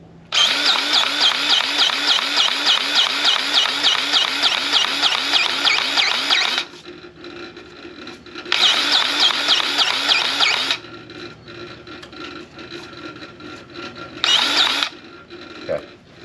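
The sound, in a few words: greasing a Kubota SSV75P skid steer while spinning the tire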